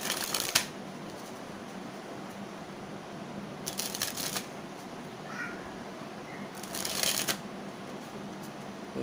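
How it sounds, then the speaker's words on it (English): A deck of playing cards is sprung from one hand to the other in three quick, close riffling bursts, each a crisp fluttering rush, with quiet pauses between them. "this is the video how to spring in cards"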